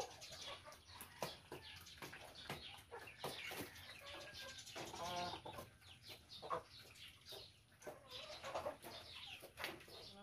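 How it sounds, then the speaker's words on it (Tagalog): Farm chickens, hens among them, cluck and call repeatedly at close range in an outdoor yard, with scattered short squawks and light rustling between the calls. "Yan yung ibang mga alaga nating manok."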